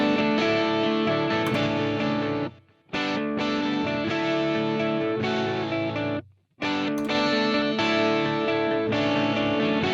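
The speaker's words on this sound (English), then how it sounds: "I'm just going to use the electric guitars, for example, because I have a delay and reverb on both of them" Distorted electric guitars play a dense, sustained riff with echoing delay and a roomy reverb tail, broken by two brief pauses.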